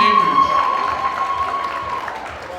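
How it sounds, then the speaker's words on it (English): A crowd applauds and cheers for a man being honored at a live event, a steady wash of clapping with a sustained tone running through it and some voices mixed in. "So round of applause for this amazing man right here, Dean"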